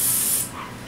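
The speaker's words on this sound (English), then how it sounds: "I spray it with a little bit of olive" Olive oil is sprayed onto a pan in one short, close hiss that fades out within a second.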